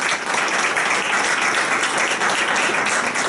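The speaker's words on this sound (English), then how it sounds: "So let's give those teachers one more round of applause" An audience at a Pints & Politics event in March 2018 gives a round of applause for teachers: steady, dense clapping from many hands, fairly close and even throughout, with no one speaking.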